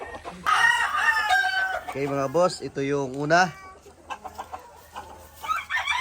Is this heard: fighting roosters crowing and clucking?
yes